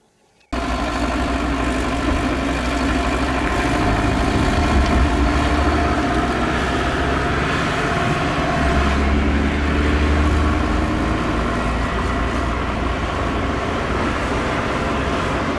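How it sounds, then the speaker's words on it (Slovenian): A Mercedes-Benz Ponton 190 D W121 diesel engine running on ordinary sunflower oil starts up abruptly and then runs on steadily, a loud, even diesel idle with a rough low rumble. "Tale stari motor čisto brez težav gre na navadno sončnično olje."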